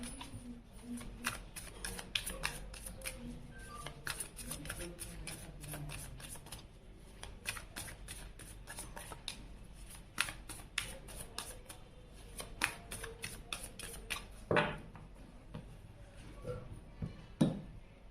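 Tarot cards are shuffled and flipped out one after another in a quiet room, giving a steady run of crisp, close papery snaps and riffles with brief pauses, and a few sharper slaps toward the end.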